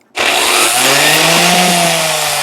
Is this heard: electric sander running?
yes